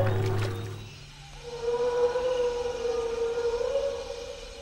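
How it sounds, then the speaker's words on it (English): The Brachiosaurus call effect from Jurassic Park, a long, low, mournful whale-like tone that rises and holds after a brief rumbling start, with no voices over it. "here we hear the Brachiosaurus sound from Jurassic Park"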